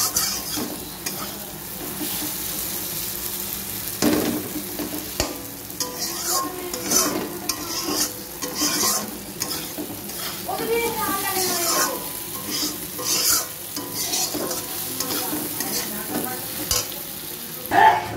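Masala with potatoes being stir-fried in a pan for a home-style lunch: a steady sizzle with repeated scraping of a spoon against the pan, continuous and close, with occasional louder clatters.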